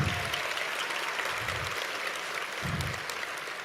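An audience at a lecture on Mexico and its transformation applauds steadily, a dense, even wash of clapping from many hands that continues throughout.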